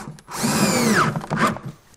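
A handheld power drill bores at an angle into wood for a homemade chicken feeder, with a short rising whine as the bit bites in, then a second brief burst of drilling, close and loud.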